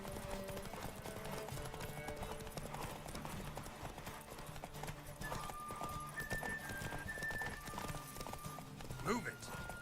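A horse gallops in The Witcher 3, fast rhythmic hoofbeats steady and close under game music, with a short whinny near the end and voices speaking over the run.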